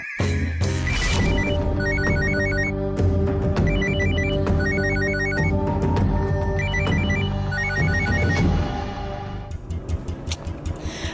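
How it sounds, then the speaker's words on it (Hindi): A phone rings repeatedly in a steady electronic pattern over a loud sustained tone, the ringing fading into clattering at the end. "फोन बज रहा है पर वो पिक नहीं कर रहा है"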